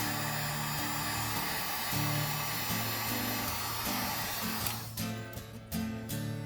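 A small heat blower runs steadily, shrinking heat shrink tubing on wiring for a portable solar power kit, a constant close whirring hum that cuts off abruptly near the end with a few brief sputters.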